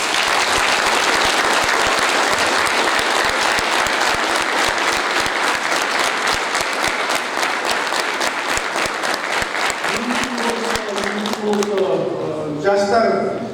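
A crowd at a poetry evening breaks into loud, dense applause that holds steady throughout, then thins toward the end as voices begin over it.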